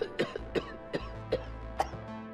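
A person coughs repeatedly in a short series of dry, evenly spaced coughs, five or six in all, fairly close and quiet, with a low hum underneath.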